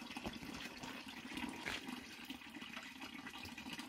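Water from a natural spring flows and splashes steadily at low volume, a continuous gurgling rush with no talk over it.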